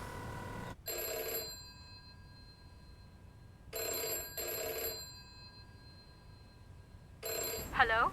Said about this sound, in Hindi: चलो फोन उठाओ।